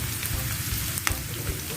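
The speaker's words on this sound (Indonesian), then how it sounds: "Ditumis sampai wangi." Spices sautéing in a pan with a soft, continuous sizzle and a light patter, one brief sharp tick partway through, no voices.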